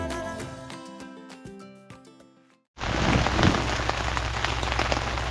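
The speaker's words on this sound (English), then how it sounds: "The following morning, you guessed it was raining." Steady rain falls on a surface after a short burst of music, a dense, even patter that continues without a break to the end, with no voices.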